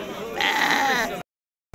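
A sheep at an outdoor livestock market gives one loud, wavering bleat lasting about a second, close by, followed by a moment of silence.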